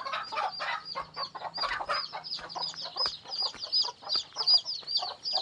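A flock of chickens clucks continuously up close, with overlapping busy calls and occasional higher squawks.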